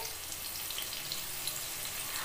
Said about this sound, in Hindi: मैं सिर्फ एक ही आलू को कट करके इस तरह से तेल में फ्राई कर ले रही हूँ